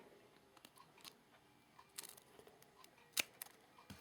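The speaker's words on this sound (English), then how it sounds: "I'm just going to cut little strips, little skinny strips" Scissors snipping thin paper into skinny strips, a few soft, close, spaced cuts with one sharper snip, in a quiet room.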